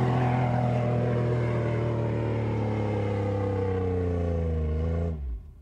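A long-wheelbase Jeep Wrangler's 3.8-litre V6 on sand dunes gives a steady, droning engine note that revs hard and holds its pitch, then drops and cuts out abruptly near the end.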